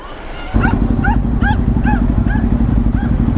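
A dog barks repeatedly in quick yelps over the loud, steady rumble of a nearby idling Ducati motorcycle engine on a Washington, DC street.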